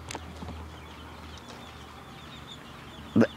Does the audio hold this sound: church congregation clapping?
no